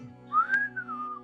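A single person whistles a smooth rising-then-falling tune at a tabletop role-playing game session. The whistle is close, clear and alone, lasting just over a second with no talking.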